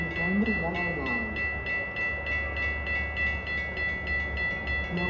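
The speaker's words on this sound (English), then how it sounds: "Milwaukee North train number 2151 to Fox Loop is now arriving." A Metra Milwaukee North commuter train pulls into the Lake Cook Road station during a December blizzard, a steady rumbling roll with repeated rhythmic clacks while a public-address voice plays over it.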